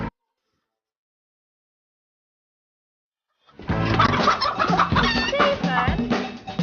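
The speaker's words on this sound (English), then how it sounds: "Try looking under a chicken" Several chickens cluck close by, a dense, busy flock of fowl sounding loud and continuous after a long stretch of silence, with occasional higher squawks.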